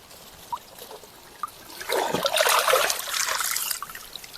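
Water poured from an upturned plastic bag outdoors in the mountains, a brief trickle that swells into a splashing stream for about two seconds, heard close and alone.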